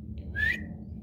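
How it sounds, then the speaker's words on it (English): A person whistles for a dog with a single short rising whistle over a low background hum, clear and fairly close. "Then he whistles for Akamaru."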